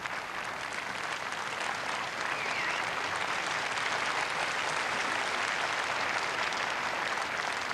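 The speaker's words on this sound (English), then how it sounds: "Sustained applause because I think the crowd realised just how well Jonas Bjorkman's playing" Sustained applause from a tennis crowd at a professional men's match, broad and even clapping from a large audience heard at a distance, holding steady the whole time without commentary.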